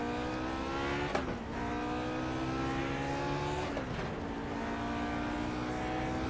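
A Lotus 49 race car engine in a VR racing game at the Mid-Ohio bike course drones continuously at high revs, the pitch dipping briefly twice as the throttle lifts and a gear changes before climbing again.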